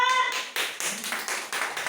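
Hands clapping in a few quick, crisp bursts, roughly seven distinct claps at an uneven pace, fairly close and with no talk over them.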